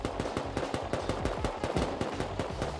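Rapid bursts of suppressed AK rifle fire in the survival game Rust, sharp repeated shots in quick uneven volleys throughout, fairly loud and close with no talking over them.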